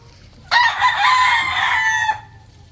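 A rooster crows once, loud and close, a long harmonic call lasting about a second and a half against a quiet background.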